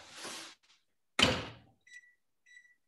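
An oven door shuts after a dish goes in, one solid thump close by, preceded by a rustling shuffle and followed by a few short high electronic timer beeps.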